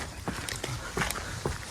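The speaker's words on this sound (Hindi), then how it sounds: "ये देखो बूट्स की आवाज़ है" Irregular crunchy boot footsteps on a path, close by, several quick steps over a steady outdoor background hiss.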